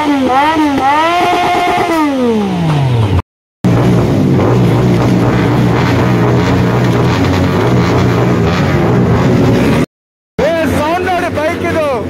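Motorcycles at a bike ride event in Mangalore rev and idle close by, with rising and falling engine tones and a sustained low rumble between brief cuts.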